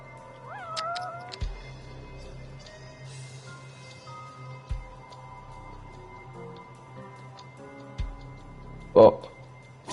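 A cat meowing in the Judgment video game, a clear upward-bending meow near the start followed by soft clicks, thumps and ambient game sounds, with a sharper sound near the end.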